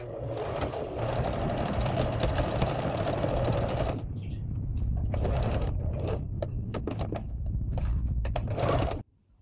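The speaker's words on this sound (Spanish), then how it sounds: "Luego empecé a coser la tira de encaje delantera y también de la parte de atrás" A sewing machine stitches a lace strip onto a recycled denim pouch, running in a fast, continuous mechanical whir close up, then breaking into short stop-start bursts before it halts.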